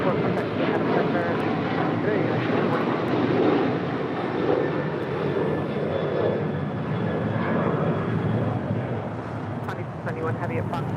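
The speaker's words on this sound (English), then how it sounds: "That is United 644 departing to Houston Intercontinental on a 737-900ER." A Boeing 737-900ER jet departing LAX, its engines giving a loud, broad continuous roar with wind buffeting, steady for most of the span and easing slightly near the end.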